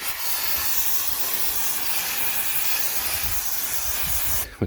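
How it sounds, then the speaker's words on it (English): Brake cleaner sprays from an aerosol can onto the dirty brake disc of a Ford Focus ST in one continuous loud hiss lasting several seconds, stopping abruptly at the end. "just going to spray over the dirty disc"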